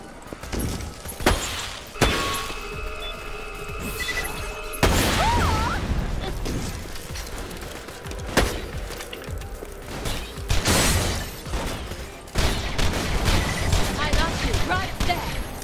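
Gunfire from a weapon in the video game Borderlands: The Pre-Sequel, several sharp, loud shots spaced a couple of seconds apart, mixed with mechanical clicks and someone talking throughout.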